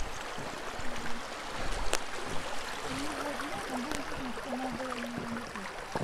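Open, unfrozen river water flowing steadily through a snowy seaside town after heavy snowfall, a continuous near rush and trickle with a faint voice briefly audible under it.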